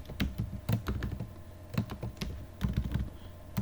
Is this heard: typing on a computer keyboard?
yes